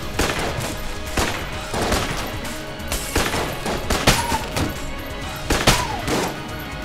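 Gunfire from the Enter the Gungeon video game, playing as the Marine: a gun fires single powerful shots, repeating as sharp loud bursts at irregular intervals with steady game background and no talk.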